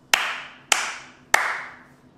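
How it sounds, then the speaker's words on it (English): Three crisp hand claps, evenly spaced about half a second apart in a quiet room, each ringing briefly, made to switch on a 1980s Clapper sound-activated device. "I found that having a half a second to a second delay between claps will yield the best results"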